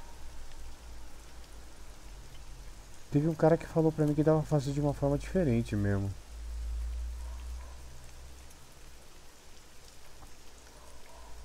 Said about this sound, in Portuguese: Nossa, tá chovendo muito.